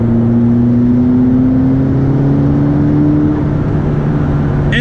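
Twin-turbo V8 of a McLaren 12C pulling hard under acceleration, a loud steady engine drone whose pitch climbs smoothly as the revs rise over several seconds, heard from inside the car with no talking.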